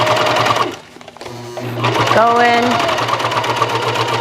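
A sewing machine stitches ruching into fabric, running in a loud steady whir that pauses briefly and starts again, with someone speaking over it.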